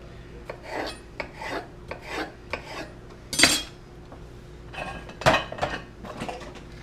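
Knife slicing bell peppers into strips on a cutting board, a series of crisp short cuts with light clinks of metal, fairly close and quiet, with a couple of sharper louder chops.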